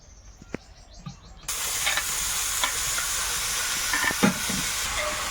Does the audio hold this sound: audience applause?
no